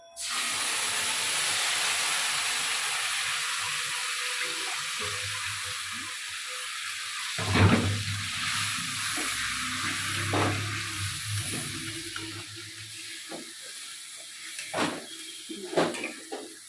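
Spice paste of tomato, green chilli and Kashmiri chilli powder hitting a hot pan in a home kitchen, a steady loud sizzle and hiss throughout with a few sharp spits and pops near the end.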